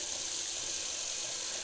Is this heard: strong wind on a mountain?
no